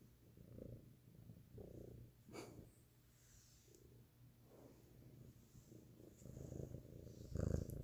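A house cat purrs close by in a steady, soft rhythmic rumble, low and continuous with slight swells, alone with no talking, growing a little louder near the end.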